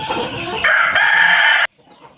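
Kuchinsky Jubilee chickens, a Russian breed, crow loudly and close by over steady clucking, with the crow cutting off sharply and leaving faint background noise.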